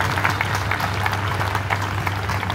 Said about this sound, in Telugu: ఒక్కసారి అందరం చప్పట్లు కొడుతూ ఆ దైవజనుడికి నివాళిని అర్పిద్దాం.